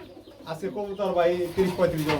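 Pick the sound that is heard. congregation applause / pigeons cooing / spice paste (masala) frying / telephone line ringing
pigeons cooing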